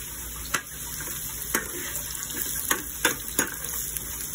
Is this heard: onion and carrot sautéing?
yes